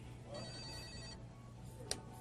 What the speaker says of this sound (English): I believe the phone's ringing.